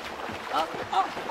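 A boat cracks and capsizes into a river as a story sound effect: a brief, close rush of sloshing, splashing water lasting barely over a second.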